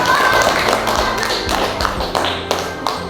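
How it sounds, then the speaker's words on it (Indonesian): Children in a fourth-grade classroom clap for a group's announced score, a fast patter of near, loud claps settling into a few sharper, spaced claps, with faint voices mixed in. "Tepuk tangan."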